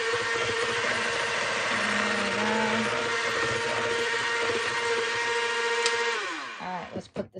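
An electric mixer whirs loudly and steadily through cake batter for several seconds, its motor pitch dipping briefly, then winding down and stopping near the end.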